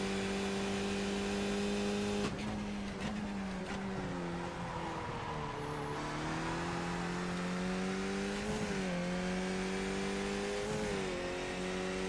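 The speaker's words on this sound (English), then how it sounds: "Sounds like the car brakes every time I enter that chicane." A Skip Barber race car engine at the Zolder circuit in iRacing drones steadily close up, its pitch dipping as it slows at about 2.3, 6 and 9 seconds before climbing again, with faint tyre noise and no talking.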